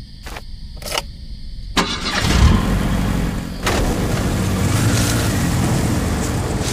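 A motorbike engine in a video game cranks with a few sharp bursts, then catches and settles into a steady, loud running rumble close by.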